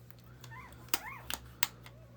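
Newborn puppies from a freshly whelped litter of seven give faint, high whimpers and a few brief yips close by, in short rising and falling bursts over a steady low hum in a quiet room.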